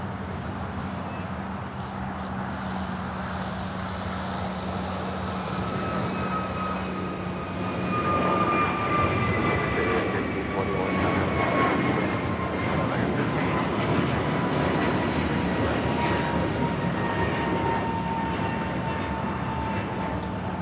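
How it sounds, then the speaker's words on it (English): An American Airlines Airbus A321neo takes off at an airport, a continuous broad jet roar that swells and holds, with a faint falling whine and some talk beneath it. "Next takeoff, American Airlines Flight 1521. It's an A321 Neo heading to Lihue."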